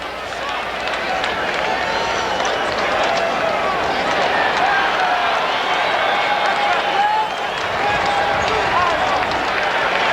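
A large crowd at a college football stadium, Washington at Colorado, keeps up a dense, continuous roar of applause and cheering. It sounds broad and steady, with rising swells and a faint hum of voices mixed in.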